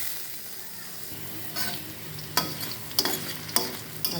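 Potatoes frying in a pan for hilsa pulao, a low sizzle with occasional stirring scrapes and a few sharp clinks of a utensil against the pan, fairly close and without talking.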